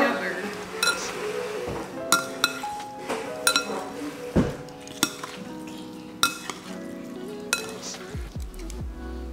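Gluten-free pasta and vegetables tossed in a pan, with repeated clinks and scrapes of a utensil against the metal over a light sizzle, and a voice talking in between.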